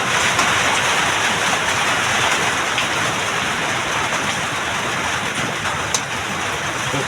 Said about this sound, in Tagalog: Napakalakas po talaga ng ulan.